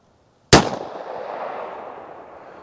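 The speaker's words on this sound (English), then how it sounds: "I'm gonna start out with the 38 Special, the 110 grain Hornady critical defense through the Taurus 608" A single sharp, loud shot from a Taurus 608 revolver firing 110-grain Hornady Critical Defense .38 Special rounds. It hits after a brief silence and is followed by a long reverberant tail that fades over two seconds.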